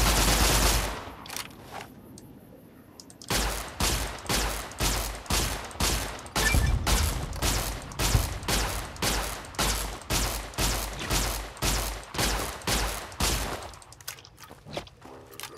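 Bursts of gunfire in Fallout: New Vegas, a long series of evenly spaced loud shots pounding in regular rhythm for about ten seconds after an opening blast.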